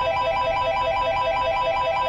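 A phone rings in the Insanis Echoes horror game, a steady repeating electronic ringtone pattern that stays loud and close throughout, with no voices over it.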